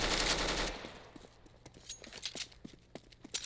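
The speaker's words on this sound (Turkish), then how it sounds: "iki tane keleş tarıyor" Two AK-47 rifles spray automatic fire in the shooter game CS:GO, with a loud burst opening the clip and then a scatter of sharp, fainter shots and clicks.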